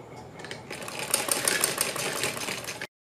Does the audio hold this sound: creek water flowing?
no